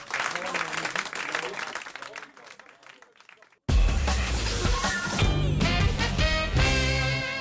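After a stretch of talking, a studio audience breaks into loud, sustained applause, with voices continuing over the clapping.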